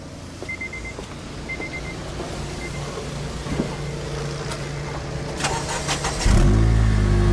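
A 2009 Honda Civic Si sedan engine cranks and catches near the end, settling into a loud, steady idle after several seconds of faint background noise.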